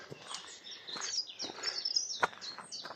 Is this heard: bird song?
yes